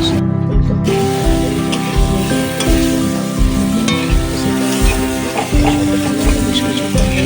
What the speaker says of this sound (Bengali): মশলা দিয়ে সুন্দরভাবে তেলে ছেড়ে এসে এইসব ফুলকপি